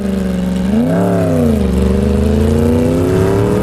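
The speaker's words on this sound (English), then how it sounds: "you can hear less wind and more exhaust audio" A Triumph Rocket 3 Storm R motorcycle engine hums steadily, its exhaust note rising briefly in a rev before settling back to a constant drone; loud and close.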